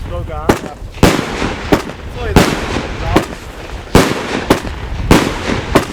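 Triplex Brokat Crown firework cake firing, a rapid series of loud sharp bangs and crackling bursts about every half second, with excited voices reacting in between.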